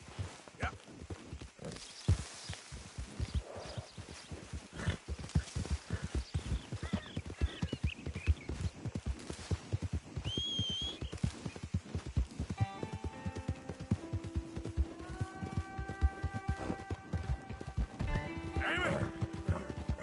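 A horse in Red Dead Redemption 2 pounds along in a fast, steady hoofbeat rhythm. A whinny cuts in midway, and sustained musical tones rise toward the end while a voice speaks briefly.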